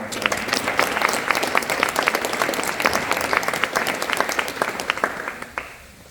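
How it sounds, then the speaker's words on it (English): A round of applause for a women's basketball coach and her staff at an Iona introductory press event, dense steady clapping filling the room for about five seconds before tapering off. "So how about a round of applause?"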